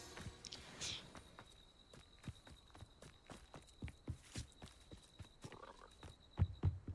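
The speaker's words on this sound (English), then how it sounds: "There's your frog." A frog croaking in the video game Hogwarts Legacy, brief low croaks among a series of soft rhythmic footsteps and quiet ambient game sounds, with no talking.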